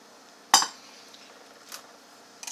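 A spoon clinks sharply against a pot stirring chicken barley vegetable soup, followed by softer scrapes and a couple of lighter knocks.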